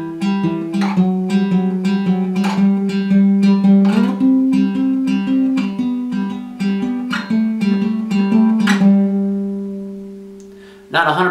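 Guitar played with a capo, picking a melodic passage as a steady run of plucked notes over ringing strings, close and clear, ending with a final strum.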